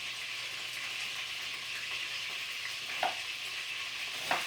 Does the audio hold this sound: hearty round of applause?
no